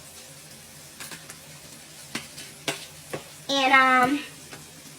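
Food frying in bacon fat in a pan, a brief burst of sizzling near the end after several light clicks and taps, with a short spoken word.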